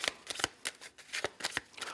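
Tarot cards are shuffled in quick riffling bursts, a rapid crisp flutter repeating several times, close up with no voices.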